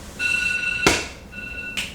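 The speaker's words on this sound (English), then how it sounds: "Alarm on my phone" A phone alarm sounds two short bursts of bright electronic ringing tones in a quiet room, each burst ending with a sharp click.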